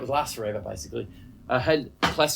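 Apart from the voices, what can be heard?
No distinct noise like a dog, phone or traffic.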